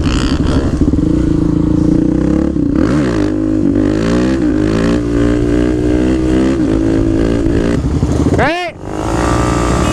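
A supermoto motorcycle riding past with a loud, continuous engine drone that rises and falls as it revs, then a quick sweeping pass near the end, with people talking over it.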